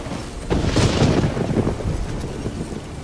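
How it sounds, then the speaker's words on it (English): A low, rumbling magic explosion in The Witcher 3 swells into a deep, booming roar that lingers and slowly fades like a distant echoing blast, with no voices over it. "A magic explosion of some sort. So powerful that even the echo was dangerous."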